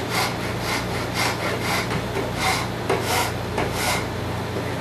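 A rasp files wood while shaping a knife, rhythmic back-and-forth rough scraping strokes repeating roughly twice a second, close and loud over a low steady hum.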